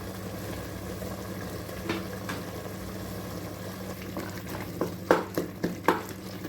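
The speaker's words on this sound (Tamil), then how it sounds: "தக்காளி நல்லா வதங்கட்டும்" Tomatoes with mint and coriander sauté in a pan for mutton biryani, a soft steady sizzle with stirring scrapes that grow into a few louder clanks toward the end.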